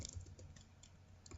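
Quick, light clatter of typing on a computer keyboard at a command prompt, a short close burst of soft keystrokes with no talking.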